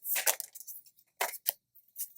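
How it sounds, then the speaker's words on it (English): Tarot cards being shuffled: quick, crisp papery riffles and slides come in several short bursts with brief quiet gaps between them. "Let's shuffle some cards."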